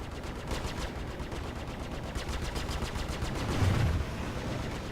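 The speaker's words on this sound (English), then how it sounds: "Send off some missiles." Spaceship weapons in Star Citizen space combat against Vanduul, a fast continuous rattling barrage of shots with a brief swell near the end, no talk over it.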